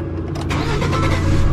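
A Ford F-150 truck engine cranks and catches, then settles into a steady, close mid-pitched idle that grows slightly louder.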